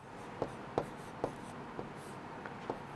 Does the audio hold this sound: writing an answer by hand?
yes